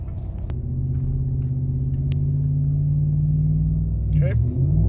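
Chevrolet Silverado with a Carven exhaust and aFe intake revving at about three-quarter throttle, a steady loud low exhaust drone holding for several seconds before dipping.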